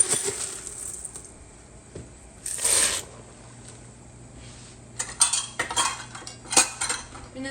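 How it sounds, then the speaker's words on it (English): Dry elbow macaroni poured into a pot of boiling water on a home stove, then stirred: a short rattling pour followed by scattered metallic scrapes and clinks of a utensil against the pot, close and moderately loud. "we are going to put 4 cups of elbow macaroni in here."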